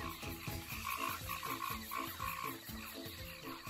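Frogs croak in a jungle in a steady, repeating chorus of low pulsing calls, with a higher trilling layer above, loud and continuous throughout.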